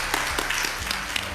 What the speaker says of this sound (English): So a round of applause to everybody in the room.